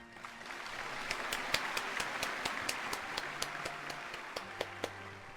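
A crowd claps in a Genshin Impact Furina story quest scene, a steady patter of many hands with a few sharper individual claps standing out, moderately loud and continuous throughout.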